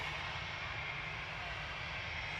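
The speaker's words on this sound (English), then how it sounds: "The Emirates is taxiing out, but the Virgin A350 is on short final." Steady jet engine roar from airliners taxiing and landing at Manchester Airport, a broad continuous rumble heard from a distance with no talk over it.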